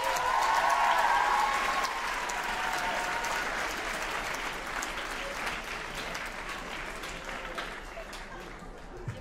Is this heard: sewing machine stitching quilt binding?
no